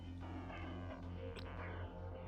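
A cat meows softly under a steady hum of game music, the cry faint and brief near the middle.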